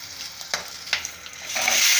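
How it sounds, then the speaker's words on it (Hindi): Three whole green chillies fry in hot oil with browned cumin seeds, giving a close, steady sizzle broken by a few scraping stirs of a utensil against the pan, with the hiss swelling louder near the end. "अब इस स्टेज पे हमने 3 ग्रीन चिलीज डाल दी है, चिलीज एकदम खड़ी खड़ी हमें डाली है।"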